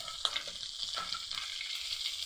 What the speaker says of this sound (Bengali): আর মাছটা দেখুন কত ফাটছে